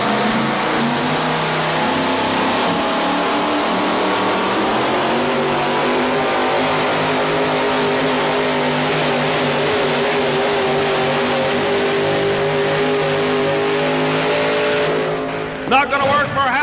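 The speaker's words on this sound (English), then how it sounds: "Hauser, North Carolina, getting ready to take a shot with a Super Rat Chevrolet" A Super Rat Chevrolet pulling truck at a 1987 tractor and truck pulling event in Louisville, Kentucky roars at full throttle, a loud sustained engine drone that fades near the end while an announcer talks over it.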